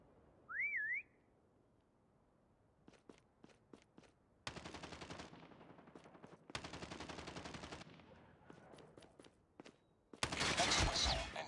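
A short rising-and-falling whistle from a Call of Duty prop hunt match sounds once, followed by sharp clicks and bursts of loud static-like gunfire in blocks.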